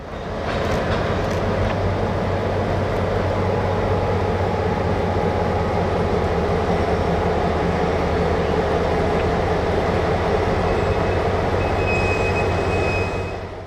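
Model locomotive NX13 shoves gondola cars onto a team track during shunting, giving off a steady, loud, continuous rumble and whine of running gear close up, with no voices.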